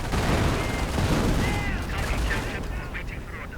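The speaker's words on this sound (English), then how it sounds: "Others getting suppressed by that MG42." An MG42 machine gun rattles in bursts during a World War II strategy game battle, mixed with other gunfire and artillery while a commentator talks over it.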